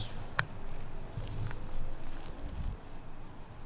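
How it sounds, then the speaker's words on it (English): Insects chirp in a steady, continuous high drone beside a river channel in Florida, with faint scattered outdoor sounds and no voices. "Bugs."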